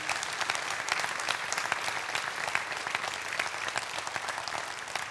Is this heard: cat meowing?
no